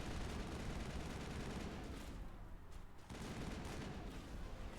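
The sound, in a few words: gunfire shooting the ground, from video game Mass Effect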